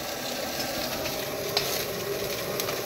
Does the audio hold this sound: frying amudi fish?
yes